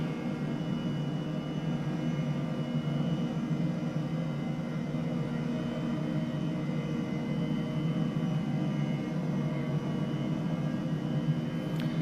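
An H135 helicopter hover-taxiing in Microsoft Flight Simulator gives a steady, fairly quiet whine of turbine and rotor noise with faint tonal hums, unbroken and even throughout.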